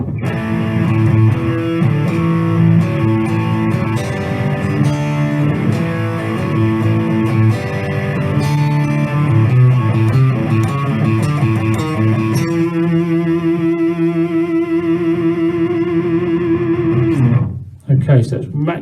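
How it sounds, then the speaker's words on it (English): A heavily overdriven electric guitar with gain and volume turned to maximum plays a long, thick, saturated passage that changes chords partway through, then drops out abruptly near the end. "that's max distortion because I've overloaded the components"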